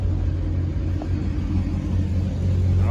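Built Chrysler 300 fitted with a Hellcat hood, its engine giving a steady, loud, deep rumble close by with a slight rise near the end, no talk over it.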